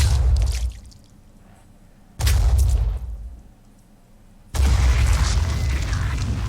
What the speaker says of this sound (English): This is why I wanted the rage burst after all.